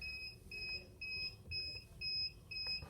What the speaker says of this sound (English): I'm sorry about the beeping,